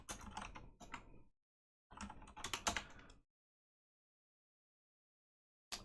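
Someone types on a computer keyboard in two quick, close bursts of rapid keystrokes, followed by a long silence and a single last tap. No one speaks.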